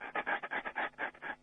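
A person imitates a small dog's panting, a quick run of about nine breathy in-and-out puffs, close and fairly loud, with no talk.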